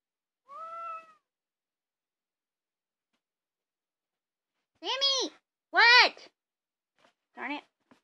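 A pet cat meows four times: one soft, drawn-out meow, a long pause, then three louder, closer meows in quick succession, each rising and falling, in an otherwise quiet room.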